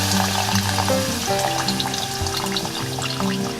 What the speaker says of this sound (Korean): 이제 아까 먼저 미리 준비해놓은 육수를 부어보도록 할게요